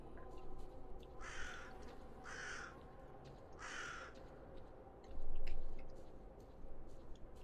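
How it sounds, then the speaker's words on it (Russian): Crows caw three times at a moderate distance over a steady low rumble of ambient background in the S.T.A.L.K.E.R. Call of Pripyat game world, with no voices. "Странно так, птички летают вокруг меня."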